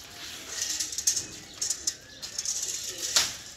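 Pigeons on a rooftop coo softly and flap their wings in short bursts, close by and fairly loud, with a few brief chirps between the flutters.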